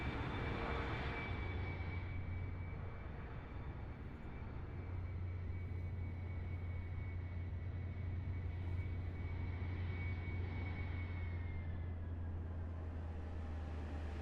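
Regional airliner coming in to land with gear lowered in Microsoft Flight Simulator, a steady droning engine whine with a low hum underneath, sustained and fairly even throughout, no voices.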